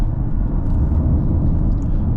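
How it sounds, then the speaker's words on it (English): Cabin of a 2010 Acura ZDX on the move, filled with a steady low rumble of wind and road noise, continuous and fairly loud with no voices. "Get a little bit of wind noise."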